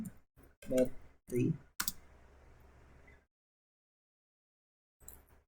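A computer mouse clicks while a bathymetry map is built in mapping software: a few sharp, quiet clicks close together, a soft murmur, then silence broken by one last click.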